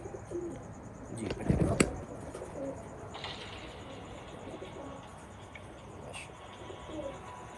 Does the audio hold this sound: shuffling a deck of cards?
no